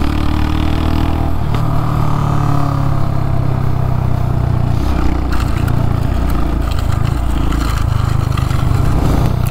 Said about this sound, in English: I'm trying to get the bike going sideways to brake.